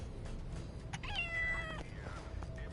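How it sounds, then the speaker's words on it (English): A cat meows inside the LEGO Marvel Super Heroes 2 video game, with one drawn-out, wavering cry rising and falling over a steady hum of game background noise. "I hear the cat."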